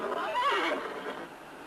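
A horse whinnies in a single drawn-out neigh with a wavering pitch that peaks early, then fades, heard near and alone beside a ranch corral in a Western setting.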